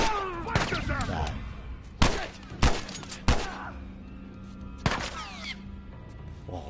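Gunfire in the video game The Last of Us: a handful of loud, spaced shots ring out one by one over tense game ambience, with a voice talking in the background.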